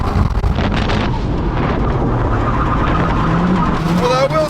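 A Mercedes drifts with its tyres squealing under a loud, continuous roar of engine and wind buffeting. Thin rising squeal tones show near the end.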